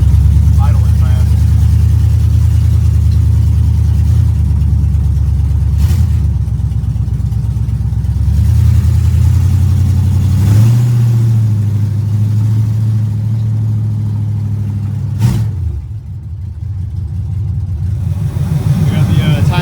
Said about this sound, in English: Flip the throttle to make it kind of stop idling fast.